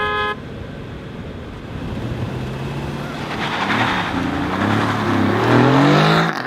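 A Tesla P100D and an Aston Martin Vantage launch side by side in a drag race, engine tone rising steadily in pitch as the cars accelerate away, loud and building over several seconds.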